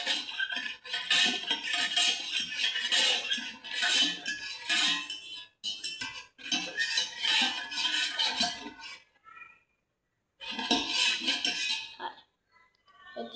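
A spoon clinks and scrapes around a bowl while stirring a jelly mixture, in repeated busy bursts of metallic tapping separated by brief pauses.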